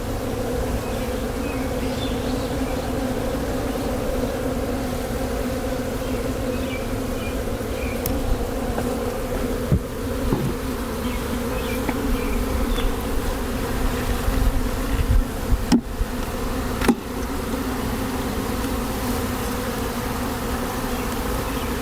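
Honeybees from a nuc being installed into a hive, a steady dense buzzing swarm drone that holds for the whole stretch, close and continuous with a few brief knocks and clicks.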